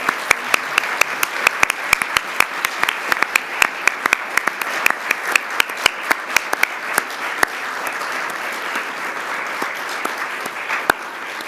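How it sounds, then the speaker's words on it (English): A large audience at the 2022 New South Wales Australian of the Year Awards applauds the nominees in a sustained, even round of clapping, with sharp individual claps standing out throughout. "please join me in giving them a well-deserved round of applause"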